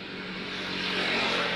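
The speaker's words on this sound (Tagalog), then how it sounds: "Yung private chopper, no?" A private helicopter passes overhead near a large arena, its broadband rotor and engine roar steady and gradually growing louder, with low rhythmic thumping underneath and no talk.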